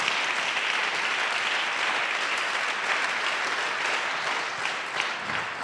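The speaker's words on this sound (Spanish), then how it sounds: "Dale ese aplauso al Señor esta mañana." A church congregation breaks into sustained applause and scattered cheers during a Sunday morning service, a steady wash of clapping from a large room, faint voices underneath.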